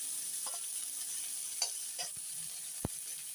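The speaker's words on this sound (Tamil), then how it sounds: "இது ரெண்டும் நல்லா வதங்கணும் நல்லா ஆனியன் வந்து நல்லா பொன்னிறமாக வதங்கட்டும்" Onions sautéing in a pan for capsicum fried rice, with a constant soft frying hiss and a few scattered utensil scrapes and taps, close but fairly quiet, with no one speaking.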